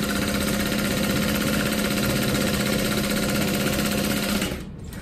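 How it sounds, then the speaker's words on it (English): A sewing machine runs steadily and fast while stitching across the top of lining pockets for a crossbody bag, a continuous close whirring hum that cuts off near the end. "we're just gonna stitch across the top"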